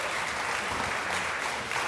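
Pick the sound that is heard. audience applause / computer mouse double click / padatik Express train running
audience applause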